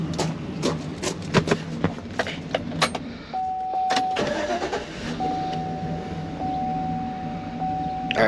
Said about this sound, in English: Let me shut it off and start it again and see if it still misfires.